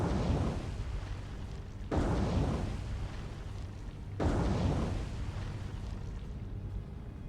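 Torpedo strikes on warships in the naval combat game War on the Sea: three deep, booming explosions about two seconds apart, each swelling loud and then rumbling away.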